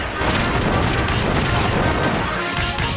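A loud, dense explosion effect from the video game Kirby's Return to Dream Land, a booming crash that fills the whole span with sustained roaring debris and rumble.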